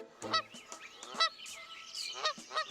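A video-game goose honks repeatedly in quick, nasal bursts, fairly faint and close, with no talking over it.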